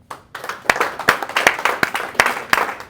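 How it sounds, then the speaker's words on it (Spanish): A congregation claps along at a Spanish-language church service, with sharp rhythmic hand-clap bursts roughly every half second, fairly close and loud, with a faint voice underneath. "Dale un aplauso a Cristo."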